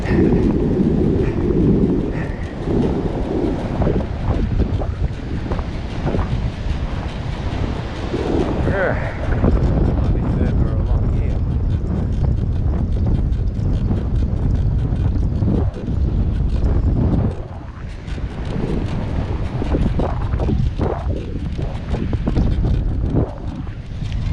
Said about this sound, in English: This headwind is a killer.